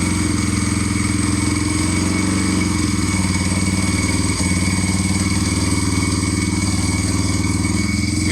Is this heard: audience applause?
no